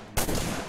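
Gunfire from an Unreal Engine 4 first- and third-person demo game as a board is shot to pieces: a sharp synthetic blast with a brief rolling tail, loud and close, with no talk.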